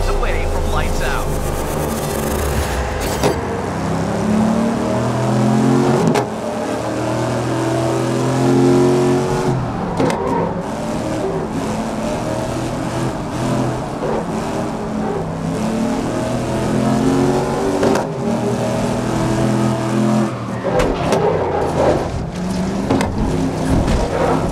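Race cars rev their engines at the start of a GRID 2019 video game race, with loud, dense engine roars rising and falling throughout and a race commentator talking over them.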